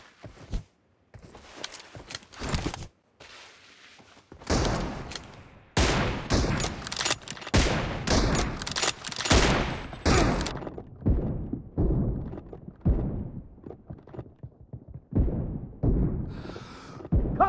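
Rapid gunfire crackles through a BGMI mobile game team deathmatch with M24 sniper rifles, sharp repeated shots in close bursts, a dense volley in the middle and scattered thuds and shots afterward, with brief gaps of near silence between.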